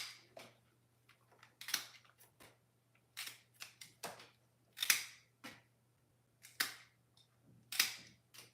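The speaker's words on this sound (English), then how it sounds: "Then you final cut the ribbon" Scissors snipping the ribbon and stem of a bridal bouquet, about a dozen sharp crisp cuts at irregular intervals, close and clear over a faint steady hum.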